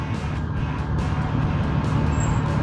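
A car's blower motor runs with a continuous low whirring drone that stays steady and fairly loud throughout, with no voices.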